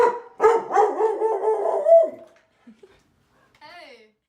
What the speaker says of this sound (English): doorbell ringing acts as the stimulus that causes a dog to bark.